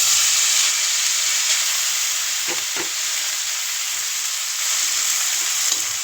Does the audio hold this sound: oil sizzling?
yes